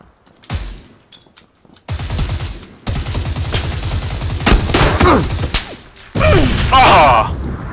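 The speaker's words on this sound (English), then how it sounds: "That thing almost killed me, that fucking grenade." Gunfire in the PUBG battle royale game: bursts of automatic shots and loud blasts, including a nearby grenade explosion, crowd the scene with dense, loud impacts, and a player's voice cuts in briefly.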